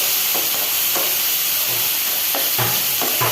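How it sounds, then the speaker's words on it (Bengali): Shrimp fries with ginger and garlic in a pan, a loud, constant close-up sizzle with a few soft stirring bumps over a short stretch. "চিংড়ি মাছটা আদা রসুনটা ভাজা ভাজা হলে"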